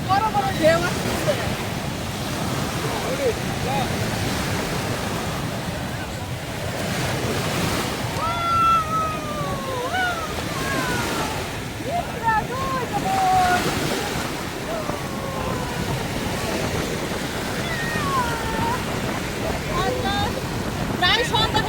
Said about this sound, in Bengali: কত বড় বড় ঢেউ আসছে।